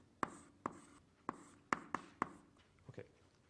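Chalk or marker strikes a lecture-hall board during a university maths lecture on graph matching, six sharp taps in an uneven rhythm followed by softer scratching, close and clear in a quiet room with no talking.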